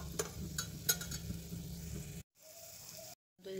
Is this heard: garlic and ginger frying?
yes